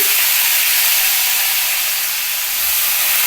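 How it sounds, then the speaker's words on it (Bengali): Unroasted moong dal drops into hot oil with a bay leaf, setting off a loud, steady hissing sizzle that fills the whole moment at close range. "এবার মুগের ডাল এটা আমি ভাজিনি এটা তেলের মধ্যেই আমি দিয়ে দিচ্ছি"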